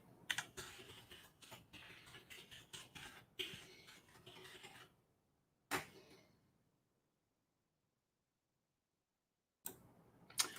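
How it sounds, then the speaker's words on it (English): Rapid typing on a computer keyboard, a dense run of close clicks and key taps for about five seconds, then a single sharp tap after a pause, silence, and a final short burst of keystrokes. "Let me just type that in for you."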